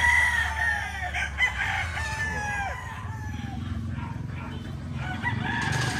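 A Boston Millionaire gamefowl rooster crows loudly and close, one long drawn-out call, with other crowing and clucking from nearby fowl behind it and no talk.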